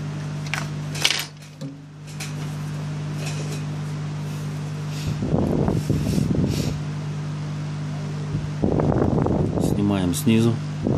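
During a microphone replacement, a hot air gun gives a steady whirring drone throughout, with a brief clink near the start and a person talking over it in bursts.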